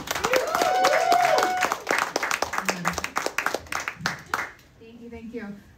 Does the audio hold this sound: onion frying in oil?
no